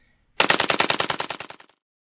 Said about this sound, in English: The gunshots now sounded like they were a long way off,